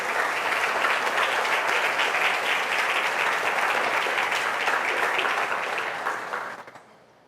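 Church congregation applauding at an evening service, a dense, steady wash of many hands clapping at once, loud and sustained for several seconds before fading out quickly at the end.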